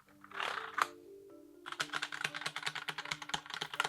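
A brief tonal chime fades, then rapid, crisp clacking of a mechanical keyboard being typed on, close and steady.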